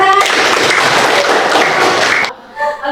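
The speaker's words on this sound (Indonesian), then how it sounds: "Oke, tepuk tangan." Students in a classroom give a loud burst of applause that lasts about two seconds and stops abruptly, followed by a brief voice.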